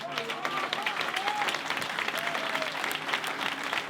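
A political rally crowd in Vicente López applauds steadily and loudly, dense clapping that holds throughout, with voices calling and cheering mixed into the noise.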